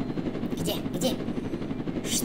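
Rapid gunfire in a Roblox-style cartoon about a police car and a prison escape, short bursts of shots rattling amid a busy mix, with speech-like sound alongside.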